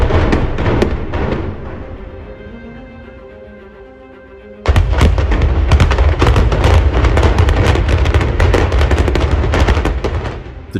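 A directional explosion near a railway goes off with a sudden loud blast, followed by a sustained dense roar and crackling bursts that stay loud to the end after a quieter rumbling lead-in.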